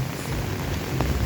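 Rain falls steadily on hard surfaces in Kampala, Uganda, a continuous dense hiss close by with no break across the short stretch.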